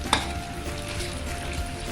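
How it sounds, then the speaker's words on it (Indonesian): Whole chili peppers (lombok) frying in hot oil for a Lamongan-style catfish sambal, a steady close crackling sizzle with a brief sharp pop near the start. "kita goreng lombok ini tidak usah terlalu lama"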